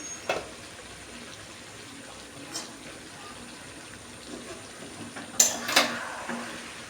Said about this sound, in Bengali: আবার ঢাকনাটা তুলে আমি নাড়াচাড়া করে নিচ্ছি ভালো করে খাসি মাংসটা একটু ভুনা করবো